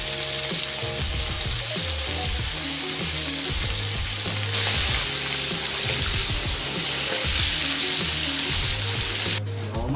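Steady crackling sizzle of food frying in hot oil, continuous and close, with no talking.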